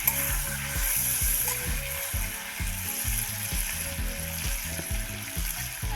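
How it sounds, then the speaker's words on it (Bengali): Potato pieces seasoned with turmeric and salt sizzle in hot oil in a pan, a steady, close frying hiss with rhythmic stirring scrapes throughout. "ভালোভাবে আমি আলুটাকে ভেজে নেব একটু।"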